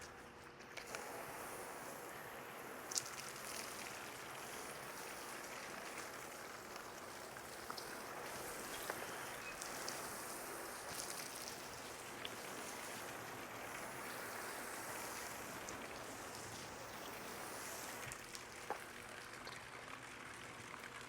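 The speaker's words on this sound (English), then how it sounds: "Sorry if you're hearing water pour." Water pours steadily from a leaking neighbor's air conditioning unit, a constant soft wash of splashing that runs unbroken and fairly faint, with no voices.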